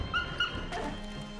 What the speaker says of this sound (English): My God, boys, we got a doggy.